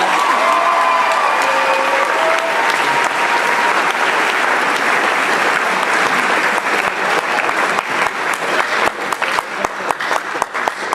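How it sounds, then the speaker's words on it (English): A student audience at a school assembly applauds a speaker being called up, dense steady clapping throughout that thins into scattered individual claps near the end. "Give him a big round of applause."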